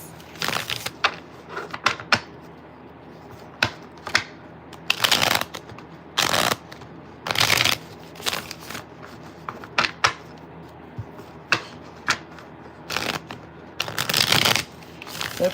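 Tarot cards are shuffled up close in repeated quick riffling bursts, with soft taps and slaps between them and short quiet gaps.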